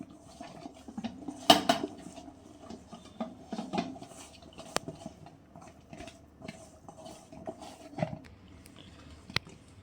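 Cauliflower pieces being tossed with masala in a metal bowl: irregular clinks, scrapes and soft pats of food against the bowl, close and fairly quiet, with no voices.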